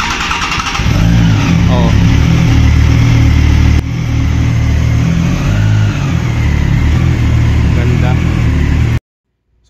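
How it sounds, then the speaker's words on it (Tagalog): A Triumph Tiger 660 motorcycle engine runs loud and close, revving steadily for about nine seconds before cutting off abruptly, with people talking over it. "papa-startin niya na yung motor sa atin"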